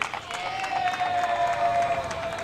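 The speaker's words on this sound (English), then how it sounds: "Clap start from the Blackhawk dugout." Rhythmic clapping from the Blackhawk dugout at a high school baseball game against West Aurora, a steady crowd wash under a whistle-like tone, with no talk.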